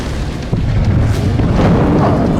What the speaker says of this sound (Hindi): देखिए कैसे बम गिरने के बाद एक तेज धमाका हुआ और फिर आग की लपटें कई मीटर तक उठी।